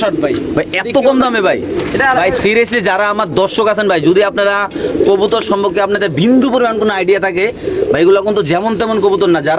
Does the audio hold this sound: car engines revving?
no